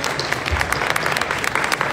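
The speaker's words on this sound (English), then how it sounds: "Let's give a round of applause." Audience round of applause at a brand showcase during a kitchen and bath industry event, brisk continuous clapping from a sizable crowd, loud and close for a couple of seconds.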